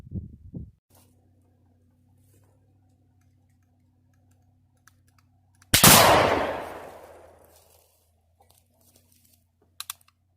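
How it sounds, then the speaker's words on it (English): A Baker Cavalry shotgun fires slug rounds at close range, a single sharp, loud blast that rings out and decays over about two seconds amid otherwise quiet surroundings. "I'm going to fire them off at rapid succession,"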